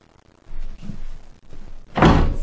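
A door slams shut hard near the end, a single loud close thud, after a few quieter bumps and movements in a room.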